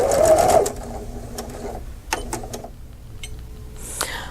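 A sewing machine runs briefly while sewing off a clamshell seam with a slit-and-sew template, a loud burst of stitching at the start followed by quieter handling clicks and taps.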